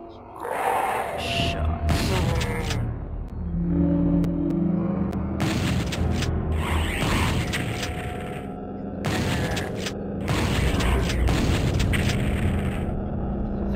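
Gunfire in DOOM 64 rings out as a string of loud, booming shots in separate bursts over a steady rumbling game soundscape, with talk running beneath parts of it.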